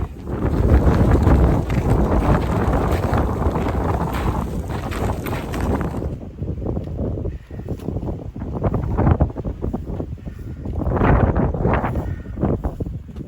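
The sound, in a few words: strong wind on exposed ridge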